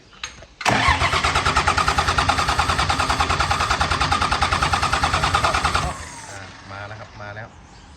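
Isuzu 6BD diesel engine, 165 horsepower, cranks with a loud rapid rhythmic chugging for about five seconds and then drops off without catching, with people talking nearby.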